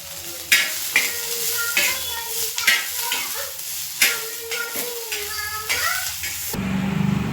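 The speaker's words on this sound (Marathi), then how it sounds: "आता अद्रक लसूण टाकलंय तेल टाकून भाजून घ्यायचं ते पण हे बघा कोथंबीर पण भाजून घ्यायची थोडं" Ginger, garlic and coriander roast in oil in a pan, sizzling steadily while a spoon knocks and scrapes against the metal several times, close and fairly loud, with a brief change in texture near the end.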